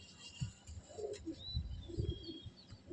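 Giribaj pigeons kept in a loft give soft, low, repeated cooing with a few chirps mixed in, close by but fairly quiet.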